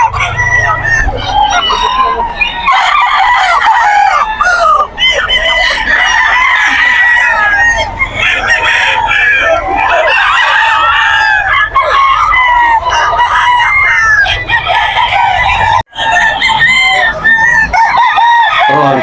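Gamefowl roosters at a busy pet market in Bocaue crow loudly and repeatedly, overlapping one another with clucking in between, in a dense, noisy crowd of birds with people talking in the background.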